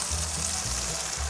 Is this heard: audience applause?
no